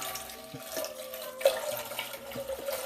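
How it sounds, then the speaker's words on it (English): Beef broth is poured into a cooking pot for noodles, making a soft, steady liquid trickle and splash at a low level, with a few faint clinks in a quiet kitchen. "So instead of using water to cook the noodles, I'm going to add the beef broth"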